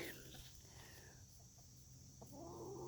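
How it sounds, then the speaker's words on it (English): A chicken clucks faintly in short, scattered notes over low background hum, quiet and somewhat distant, with no one talking. "there's a chicken."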